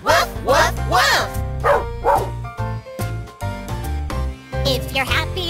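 In a children's song, singers voice imitation dog barks, a run of rhythmic woofs over music with yipping, bark-like pitch sweeps.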